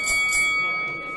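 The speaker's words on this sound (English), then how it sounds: "bell rings, we're going to be underway" A wrestling match bell rings at the opening of a bout, a bright metallic tone with sustained ringing overtones that fade over about a second, fairly loud against a low crowd murmur.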